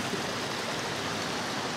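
A river stream at Ilog Bulbok in Alfonso, Cavite rushes in a steady, dense broadband wash, close and loud, with no talking over it.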